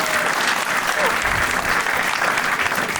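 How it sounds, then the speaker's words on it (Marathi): A studio audience at a Marathi comedy talk show claps hard for the panel. The applause is dense and steady and fills the whole stretch without a break. "एकदा पॅनलसाठी जोरदार टाळ्या मित्रांनो"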